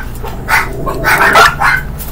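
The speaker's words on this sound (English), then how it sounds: "I'm sorry for all the barking." Dogs barking loudly and close in a home, several sharp barks and yips coming in quick bursts across about two seconds.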